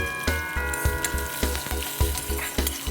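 Garlic frying in hot oil with chana and urad dal, hing, curry leaves and chilies, a loud crackling sizzle broken by regular thumps and scrapes of a stirring spoon about every half second.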